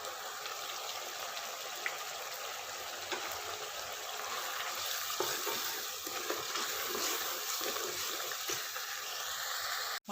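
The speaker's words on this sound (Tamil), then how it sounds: "மசாலா சேர்த்து நல்லா மிக்ஸ் பண்ணிவிட்டு புளி ஆட் பண்ணிக்கலாம்." Chilli and coriander powder being stirred into simmering tomato-based fried fish curry gravy in a pan, a soft continuous bubbling sizzle with faint scraping, heard alone at low volume.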